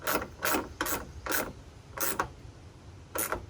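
A wrench tightens studs on a Jeep JK hood latch set in a plastic piece, giving six short rasping ratchet strokes close up in an uneven rhythm with quiet gaps between.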